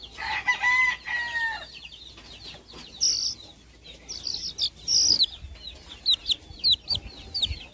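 Chickens and young chicks on a Spanish-speaking farm cluck and peep in short, close bursts, with sharp high chirps scattered throughout and a rooster-like call mixed in.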